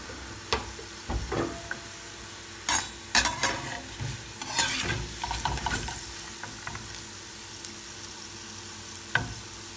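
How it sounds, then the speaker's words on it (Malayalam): Bitter gourd fries in hot oil for a Kerala kichadi, the pan stirred with a utensil so scrapes and clatters rise over a steady close sizzle, with sharper bursts scattered through and no talking. "ഇനി കുറച്ചുകൂടി ഒന്ന് ഫ്രൈ ചെയ്യണം."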